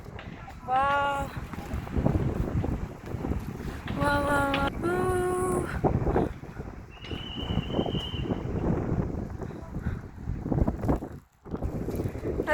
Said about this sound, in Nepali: कति धेरै राम्रो हावा